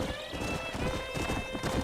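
Horse in the Red Dead Redemption video game whinnying over steady clip-clopping hooves, continuous and moderately loud through the short stretch.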